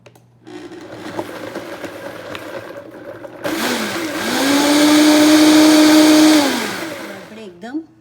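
An electric mixer grinder blending ginger pieces with water, whirring up to a loud, steady motor drone that holds for a few seconds and then winds down.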